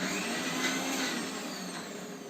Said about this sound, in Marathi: आता ही चटणी आपण मिक्सरला लावूया